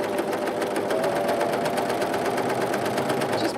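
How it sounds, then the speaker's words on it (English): A Pfaff Coverlock 3.0 overlocker stitches fabric in 2-thread overlocking mode, giving a fast, even mechanical chatter with a rapid rhythmic needle beat, close and continuous throughout. "So we start overlocking,"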